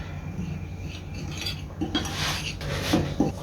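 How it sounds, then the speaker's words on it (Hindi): A spoon scrapes and stirs inside a bowl as chicken marinade with chaat masala is mixed, with soft rasping and rubbing, faint clinks and close quiet scraping. "ये इसके अंदर ऐड करके इसको अच्छे तरीके से इधर मिक्स करना है सारी मैरिनेशन को"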